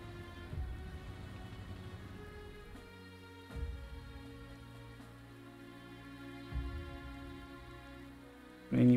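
Rain in the strategy video game Panzer Corps 2: a faint, steady patter of raindrops over a low droning background, with occasional soft low thumps.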